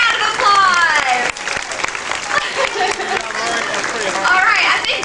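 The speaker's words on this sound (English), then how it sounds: "Let's give her a big round of applause." An audience claps at a tiger show at Six Flags Great Adventure, a lively burst of applause mixed with crowd chatter and excited voices, with people talking and calling out throughout.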